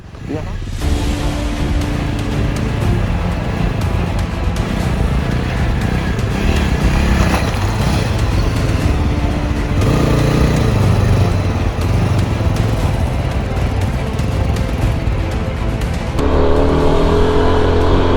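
Yezdi Adventure motorcycle engine climbing an off-road slope in second gear, a steady loud drone throughout with shifting tones and a rise near the end, voices talking over it.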